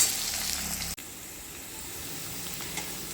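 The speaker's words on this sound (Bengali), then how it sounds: "চলো তাহলে আলুটা ভাজা হোক" Potatoes fry in a pan with a steady, even sizzle close by, broken by a brief dip in the hiss before it resumes at the same level.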